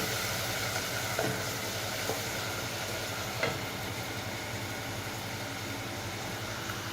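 Onion sautéing in a pan alongside seasoned pigeon for stuffing with rice, a steady soft sizzle with a few faint stirring knocks, no talk.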